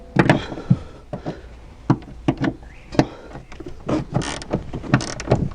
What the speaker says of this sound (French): Un petit coup de cliquet.